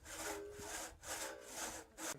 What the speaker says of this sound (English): Pit sawing is absolutely exhausting.